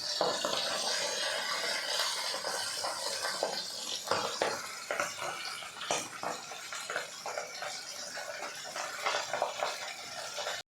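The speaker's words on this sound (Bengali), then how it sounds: "মাছগুলো প্রায় ভাজা হয়ে এসেছে" Steady, close sizzling of tilapia fish frying in oil, with scattered crackles and occasional scrapes of a utensil in the pan.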